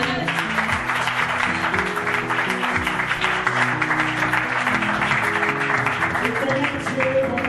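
Church congregation applauding and cheering at a French youth gathering, a steady dense wash of clapping and voices lasting throughout over sustained music.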